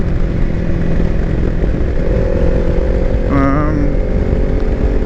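Kawasaki Versys x300 motorcycle riding along a country road, its engine droning loudly and steadily with heavy wind rumble, a brief rising whine partway through, and no talk.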